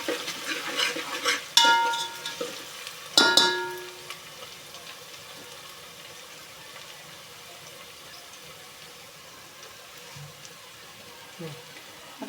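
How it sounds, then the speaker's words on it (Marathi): Garlic-ginger paste frying in a pan for chicken biryani: two sharp bursts of stirring and scraping early on, then a low, steady sizzle continuing under faint background noise. "लसूण अद्रकाचा पेस्ट चांगल्या प्रकारे तळल्याच्या नंतर मग बाकीचं सामान टाकायचं"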